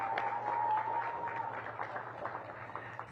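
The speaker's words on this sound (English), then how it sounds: "Give them a big round of applause." Applause for the teachers and staff of Marie Reed at a DC government Halloween safety event, a soft, steady patter of clapping from a modest crowd held at an even level throughout.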